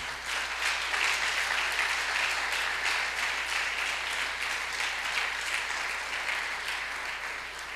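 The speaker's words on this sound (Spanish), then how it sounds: "Bríndele un aplauso al Señor." A church congregation breaks into steady, sustained applause, a room full of hands clapping evenly at moderate loudness before tapering slightly.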